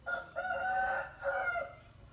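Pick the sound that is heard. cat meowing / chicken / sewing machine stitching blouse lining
chicken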